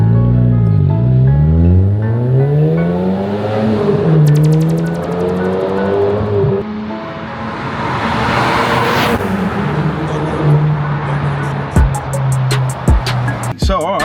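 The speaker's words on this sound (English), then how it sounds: "we're gonna go out now for a little drive and get some data on the Golf GTI edition 35" A stage 1 tuned Mk6 Golf GTI Edition 35 is heard from inside as its engine revs up loudly through gears, with the pitch rising and falling in repeated sweeps. Crackles and pops come between shifts, and people talk over it.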